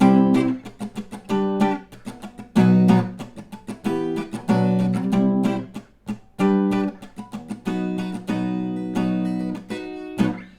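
An acoustic guitar strums the chords of a song in a steady rhythm, moving through the progression with bright, ringing strokes and brief pauses between phrases.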